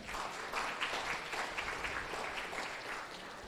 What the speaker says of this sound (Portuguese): Palmas, colega.